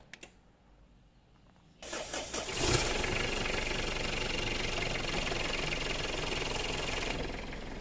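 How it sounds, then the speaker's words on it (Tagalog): A Mitsubishi Pajero's cold 4M40 diesel engine cranks briefly, then catches and roars into a loud, steady rumbling idle with slight vibration that runs continuously, close by. "medyo pa-vibrate pa kasi malamig pa yung makina"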